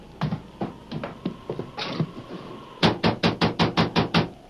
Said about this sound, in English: We've certainly knocked loudly enough for him to hear.